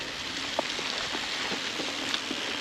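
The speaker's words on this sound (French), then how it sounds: "On est toujours sous la pluie." Steady rain hisses on a surface, with occasional distinct drops tapping nearby, no voices.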